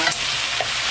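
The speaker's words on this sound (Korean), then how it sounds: "간장을 넣었더니 간장 향이 확 올라오네. 이렇게 슬슬 볶아줍니다." Fish cake with soy sauce is stir-fried in a pan, giving a brief, close sizzle with quick stirring scrapes.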